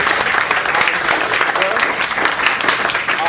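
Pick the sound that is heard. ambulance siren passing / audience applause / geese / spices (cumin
audience applause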